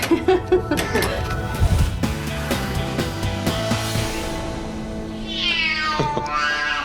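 A cat at a Bondi veterinary clinic gives a drawn-out meow near the end, preceded by clattering handling noises and rustling, close and fairly clear.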